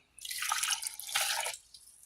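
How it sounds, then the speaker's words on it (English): Vinegar poured into a cooking pot while making dill and sweet relish, a close, steady liquid splash lasting under two seconds with a brief dip midway, no talking. "Go ahead and pour in the vinegar."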